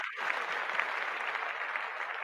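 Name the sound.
hand clapping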